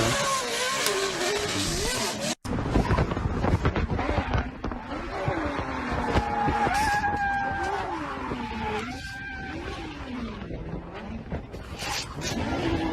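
Video game car driving with a whining engine that rises and falls and tyres screeching through turns, loud and continuous, with talking over it.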